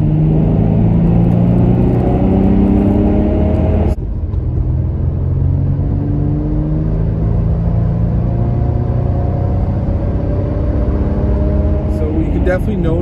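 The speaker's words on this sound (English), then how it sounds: "I'm in city mode on the pedal commander, and I'll give you a bit of" Car accelerating in second gear on a back road with a Pedal Commander throttle controller set to city mode, a steady engine drone whose rising harmonics climb through the gear, with a brief dip near the start and someone talking over it.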